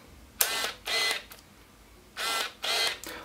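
A Tamron 28-75mm f/2.8 lens autofocus motor whirs in four short, close, high-pitched buzzing bursts, each under half a second, with quiet gaps between.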